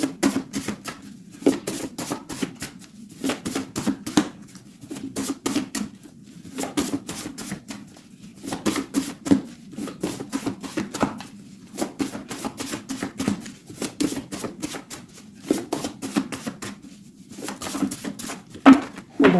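Crisp bursts of card riffling and tapping as a deck of tarot cards is cut and shuffled, coming in rhythmic clusters separated by short pauses, close and fairly quiet.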